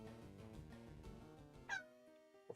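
A cat meows close by, a few drawn-out, rising and falling cries over a brief stretch, fairly loud and alone, with no talk.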